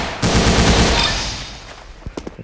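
Gunfire in the Roblox Arsenal video game, a loud, close rapid burst of shots that fades into a tail, followed by a few faint clicks with no talking.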